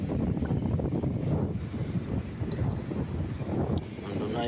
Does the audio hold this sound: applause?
no